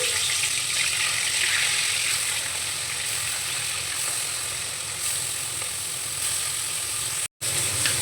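Prawns coated in turmeric and salt fry in hot white oil in a kadai, giving a steady, even sizzle that stays loud throughout with one brief dropout near the end.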